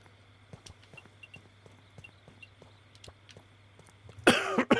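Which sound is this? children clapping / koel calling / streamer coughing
streamer coughing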